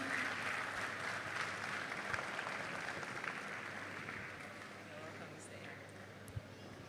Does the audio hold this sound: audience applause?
yes